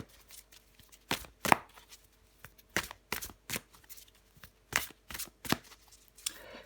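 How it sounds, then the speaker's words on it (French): Tarot cards being shuffled and drawn, giving sharp riffling snaps in uneven bursts with short pauses between them, close and fairly quiet, with no voice. "je prends encore une carte pour vous les Capricornes"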